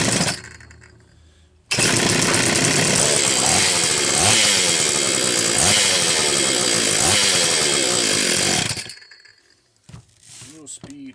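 A Homelite XL-925 chainsaw, freshly repaired after major engine work, runs loud and close for about seven seconds, its two-stroke engine snarling with repeated rises and dips in speed before cutting off, followed by faint handling noises.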